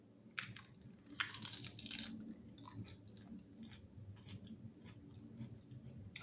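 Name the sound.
crunching and chewing a big chunk of lettuce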